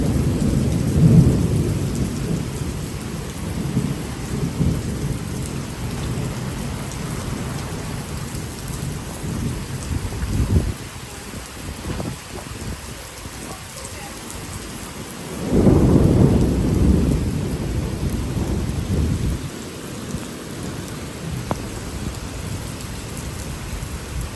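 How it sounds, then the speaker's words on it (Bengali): Heavy downpour in a storm in Singapore, dense rain pouring onto surfaces with deep rumbling thunder rolling in twice, loud and continuous with no voices. "প্রচুর বৃষ্টি পড়তেছে, মুষলধারে বৃষ্টি পড়তেই আছে"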